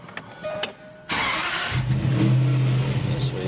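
Supercharged Range Rover Sport engine starting: a quiet click or two, then the starter catches and the engine fires abruptly, settling into a loud, steady close-up idle with a low hum for the remaining seconds.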